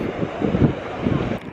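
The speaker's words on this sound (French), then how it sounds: "Désolée si on entend le vent dans la vidéo." Wind buffets a microphone at Pointe de la Grande Vigie on the seashore of Guadeloupe, a close, rumbling, gusty roar that swells and eases over a couple of seconds with no voices.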